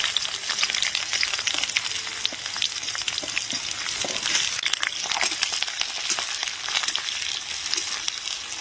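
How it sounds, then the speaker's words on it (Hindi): Onions dropped into hot oil with tempered bay leaves for a masala Maggi dish, a loud crackling, spattering fry with dense popping like rain throughout, near and constant, no voices. "हमारा तेज पत्ता तड़क गया है तो इसी में हम डाल देते हैं प्याज।"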